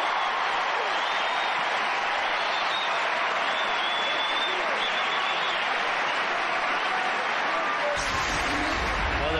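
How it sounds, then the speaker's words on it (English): A tennis crowd applauds a great point by Agassi with loud, sustained clapping that fills the whole stretch, and a few voices rise within the applause. "the crowd is really responding to this great play from Agassi"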